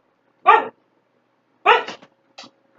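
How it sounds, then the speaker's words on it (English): Two dogs bark close by, giving three short, sharp barks with pauses between them and quiet in between. "I pretty much got the two dogs in here."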